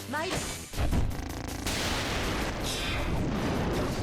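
A dimensional sword attack lands in the strategy game War of the Human Tanks, giving a crashing, booming blast followed by a long rough rumbling roar that fills the whole moment.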